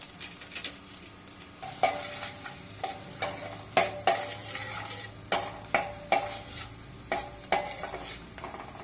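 Steady sizzle of finely chopped garlic frying in butter in a pan, broken by repeated scraping strokes of a spatula stirring at a regular pace.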